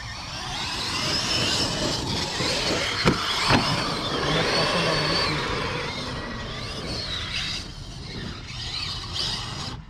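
A vehicle with its original engine runs steadily nearby as a loud, continuous mid-pitched drone. A couple of brief knocks occur partway through, and no one speaks.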